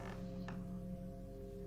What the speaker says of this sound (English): Suddenly, a faint creaking sound could be heard along the floorboards.